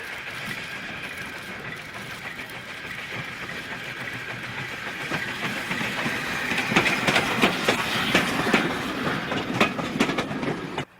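A heritage train pairs a tank engine with an LMS inspection saloon built by British Railways in 1959 and departs Loughborough, rumbling and clattering steadily, growing louder and closer with rhythmic wheel clicks over the rail joints.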